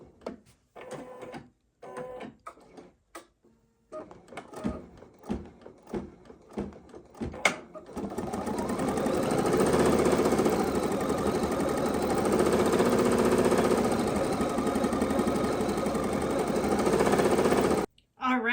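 A few clicks and short bursts come first, then an embroidery machine sews in a loud, steady, continuous hum for about ten seconds before stopping abruptly.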